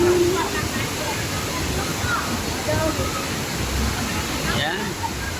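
Excess water from a resort swimming pool overflow running down toward the sea, a steady rushing, splashing flow heard close, with a voice speaking over it.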